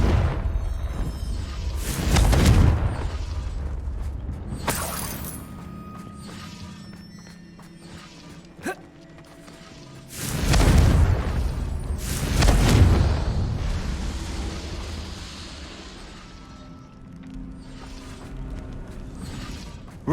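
Confringo fire spell explosions in Hogwarts Legacy: several heavy booming blasts with whooshing tails at spaced intervals, separated by quieter ambient stretches.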